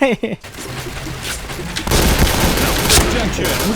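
Gunfire and grenade blasts from the Point Blank shooter game, with a dense, loud burst of shots and explosions starting about halfway through and carrying on steadily to the end.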